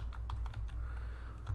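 Computer keyboard typing as router BGP commands are entered, a brief run of soft, irregular keystrokes over a steady low hum.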